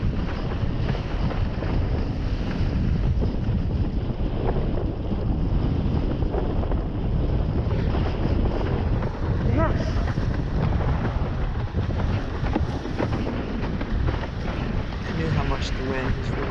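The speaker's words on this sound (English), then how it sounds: "How much the wind is really blowing that day." Wind on Lake Jocassee, North Carolina, during a foil windsurfing session roars and buffets the microphone without pause, a dense rumble that rises and falls with the gusts, with faint splashes of water mixed in.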